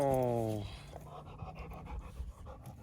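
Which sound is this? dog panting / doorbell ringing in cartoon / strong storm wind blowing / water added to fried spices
dog panting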